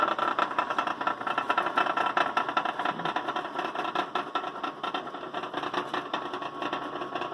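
A Logan 200 metal lathe runs in reverse with a steady mid-pitched mechanical whir and a fast, even rattling clatter from its gears, close and continuous with no talking.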